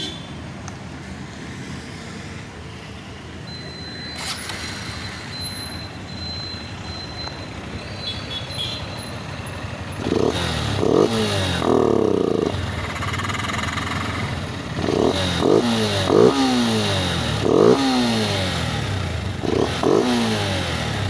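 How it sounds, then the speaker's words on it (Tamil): Honda CB200X motorcycle engine fitted with a K&N performance air filter, idling steadily and then blipped through several sharp, loud throttle revs in close succession, heard nearby with no talking. "இப்போ வந்து கீயை ஆன் பண்ணி இதோட சவுண்டு அண்ட் பெர்ஃபார்மன்ஸ் எப்படி இருக்குங்கிறத நம்ம பார்த்துடலாம்."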